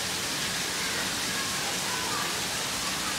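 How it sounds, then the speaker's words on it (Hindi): Heavy rain pours down steadily, a loud, unbroken broadband hiss that fills the whole stretch without letup. "आज के दिन बारिश लगी हुई है, बहुत तेज़ बारिश लगी हुई है,"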